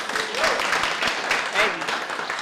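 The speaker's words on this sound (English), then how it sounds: "can we give them all another round of applause?" An audience at a county commissioners' ceremony gives a round of applause, a dense clapping wash with scattered cheers and voices mixed in.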